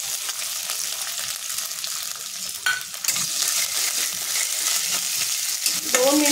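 Chana dal and moong dal sautéing in oil with curry leaves, a continuous bright sizzle with scraping stirs throughout, growing fuller and louder midway.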